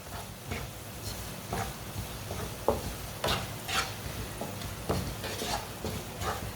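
Spices cooking on low heat in a pan for a winter egg recipe, giving a steady soft sizzle with intermittent stirring scrapes and light taps throughout, no talking.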